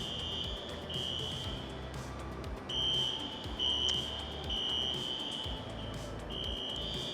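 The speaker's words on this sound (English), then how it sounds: "I'm guessing some kind of fire alarm is going off somewhere." A high-pitched alarm beeps in a continuous repeating pattern, sounding somewhat distant over a low background rumble.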